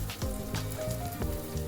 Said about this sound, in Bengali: তো ভেজে নিয়ে ফিরছি আবার